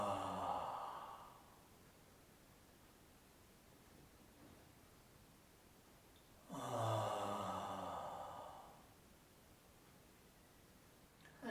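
Two long, breathy exhales from a Reichian breathing exercise, each shaped with a soft voiced R, separated by several seconds of quiet hiss.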